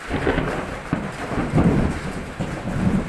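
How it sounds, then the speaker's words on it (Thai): Steady rain with rolling thunder during a storm, a continuous broadband wash of falling water and low rumbles that swell and ebb throughout, with no talking over it. "ฝนตกด้วยครับฟ้าฟ้าร้อง"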